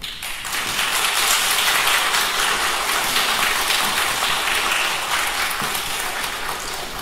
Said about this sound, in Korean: 나오실 때 큰 박수로 우리 환영합시다